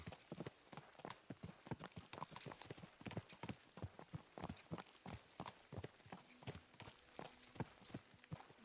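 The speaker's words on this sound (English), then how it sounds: "Let's really spur these horses on, eh?" Horses ridden in Kingdom Come: Deliverance 2 clip-clop in a brisk, steady rhythm of close, sharp hoofbeats, with a faint brief snort or whinny and no talking.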